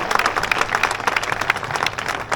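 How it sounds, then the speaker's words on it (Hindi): Brisk clapping from an audience at a sports talent award ceremony in Kandharan, honouring football players, a short burst of many hands that stays loud throughout. "जोरदार तालियां उनको दी जाए"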